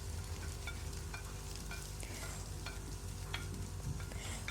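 Mixed vegetables are stir-fried in a pan with chicken being made for spring roll filling. A faint, steady sizzle runs under light stirring scrapes and a low background hum, with no talking.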